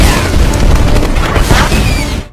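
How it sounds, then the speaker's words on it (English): A loud, dense explosion with a deep rumbling low end that sustains for a couple of seconds before dropping off abruptly. "There are explosions,"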